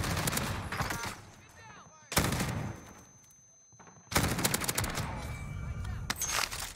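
Bursts of rapid automatic fire from an STG 44 converted into an SMG in a video game, loud and close, in two long volleys and a shorter one separated by quieter gaps.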